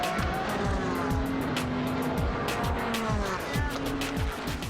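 Audi R8 endurance race cars at Sebring roar past with engine notes rising and dropping through repeated gear changes, loud and continuous, with faint commentary-like voice underneath.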